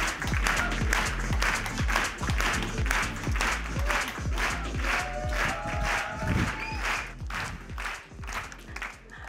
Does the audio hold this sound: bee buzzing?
no